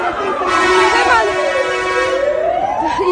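Emergency sirens from ambulances and fire engines racing to collapsed homes, a loud wailing tone that sweeps up and down continuously, with crowd noise and voices underneath.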